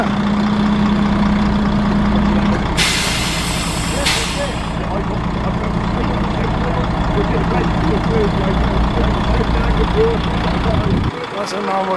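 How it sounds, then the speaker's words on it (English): A bus engine idles at Watchet station on the West Somerset Railway with a steady low rumble, a brief hissing burst partway through, and muffled voices in the background. "That's a normal service bus"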